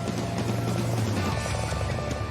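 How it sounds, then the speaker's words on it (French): Helicopter flying low over London, a steady loud rotor and engine drone with a strong low hum throughout, no voices. "un lancer de peluche et de tracts sur Londres depuis un hélicoptère"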